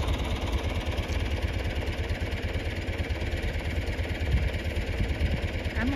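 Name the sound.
John Deere and Ford tractor engines running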